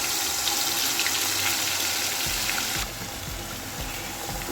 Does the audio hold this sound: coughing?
no